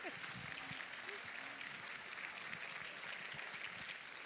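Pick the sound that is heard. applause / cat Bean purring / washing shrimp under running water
applause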